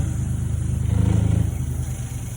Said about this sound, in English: I only use my power wrapper to do this and run long under wraps.